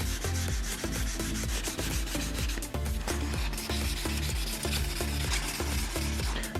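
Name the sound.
wet sanding paint runs with 2500 grit sandpaper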